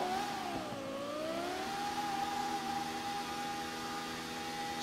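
Engine of a drift car idling and holding a steady drone from inside the cabin, with a brief dip and rise in pitch early on before settling into a constant hum.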